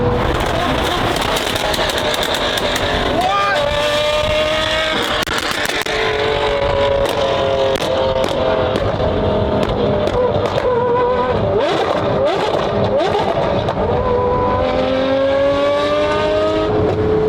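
Loud, high-revving sports car engines roar past one after another, their pitch sweeping down as they pass amid crowd noise and crackling.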